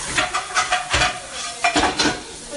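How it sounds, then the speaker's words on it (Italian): A spoon scrapes and stirs food in a pot over sizzling heat, rhythmic strokes close up and fairly loud in a home kitchen, with no talking. "Ogni tanto mescoliamo"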